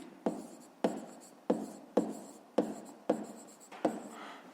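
A pen scratches out a handwritten math solution on paper in seven short, evenly spaced strokes, close and fairly quiet, with no talking.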